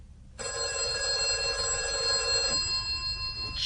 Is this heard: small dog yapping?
no